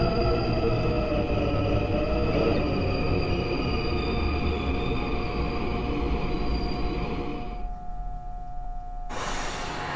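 A subway train on Incheon Line 1 runs in the Hmmsim2 train simulator, with steady rolling rumble and tonal motor whine that fade near the end before a sudden bright hiss.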